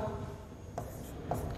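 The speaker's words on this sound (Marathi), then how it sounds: "आपल्या समोर मी लिहितोय, पटकन सोडवा" Marker or pen writing out an alphabet-series reasoning question on a board, with short scratchy strokes and a couple of brief squeaky bursts, close and fairly quiet with no talk.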